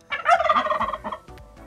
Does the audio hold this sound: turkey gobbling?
yes